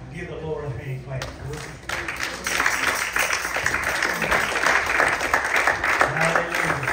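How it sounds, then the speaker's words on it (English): A church congregation claps for the Lord during a New Year's Eve service, the clapping swelling from about two seconds into a steady, fairly loud patter, with a voice and some murmuring underneath at the start. "Give the Lord a hand clap."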